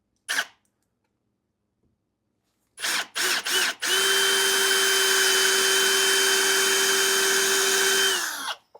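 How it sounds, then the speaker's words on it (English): After a few short bursts, a power drill whines steadily at high speed drilling into the metal of a Jeep Cherokee XJ, for several seconds, loud and close, then winds down. "I'll drill into the metal"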